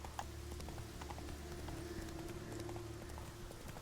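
Hooves of Roach, Geralt's horse in The Witcher 3, clip-clop in a steady galloping rhythm, close and continuous over a low droning background.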